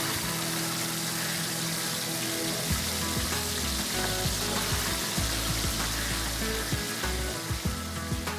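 Chicken pieces, skin side first, fry in a spiced seasoning paste in a pan, giving a loud continuous sizzle with bubbling and occasional stirring scrapes, close up and without talk.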